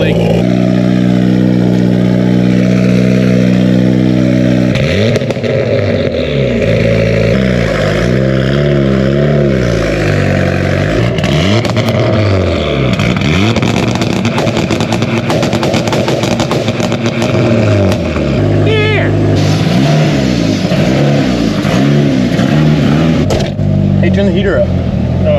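Big-turbo Volvo 240 engine driving with a boost leak: a loud, droning in-cabin engine note that rises and falls with revs and gear changes, with a raspy hiss through the upper range and people talking over it.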